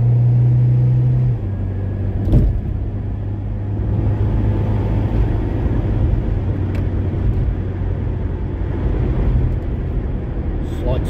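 An Austin Ambassador car engine drones steadily from inside the cabin as it drives, a low rumble shifting pitch with gear changes and a kick-down, with brief thumps along the way.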